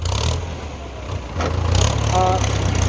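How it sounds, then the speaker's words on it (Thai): A Ford 6600 tractor pushing over a cassia tree stump, its engine holding a loud, steady low drone that swells slightly in the second half, with someone speaking over it. "เจ็ดสี่รถไถฟอร์ดครับพี่น้อง"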